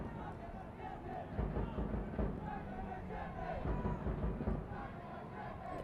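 A football stadium crowd at a Grenada vs Guatemala Concacaf Under-17 qualifier keeps up a steady roar, with drum-like percussion thumping through the noise at an even, moderate level.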